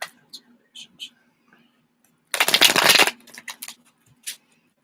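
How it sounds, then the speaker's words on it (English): Tarot cards being shuffled in one brisk, loud riffle lasting under a second, surrounded by a few light taps and quiet handling sounds. "They got all the shuffles."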